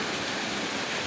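Steady rushing of water gushing from the outlet of a CRI 3 HP DC solar pump on a farm, a dense continuous broadband wash with no breaks, loud and close throughout.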